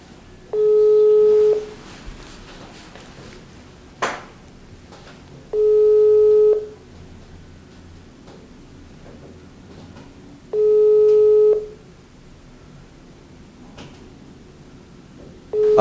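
A telephone line tone sounds in long, steady beeps, three spaced a few seconds apart with near silence between, as a call fails to go through.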